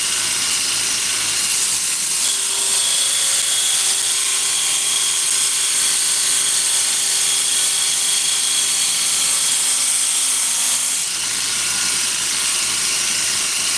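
A bench grinder hisses and whirs steadily as the bevel of a handmade knife is ground, a loud continuous abrasive rush with faint tonal hum running without a break until it eases near the end.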